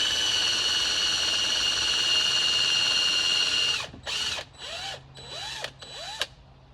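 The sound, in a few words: drill-driven plug cutter slowly cutting wood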